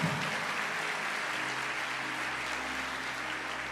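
A church congregation claps together in a continuous, moderately faint wash of applause that fades slightly toward the end, with no voices.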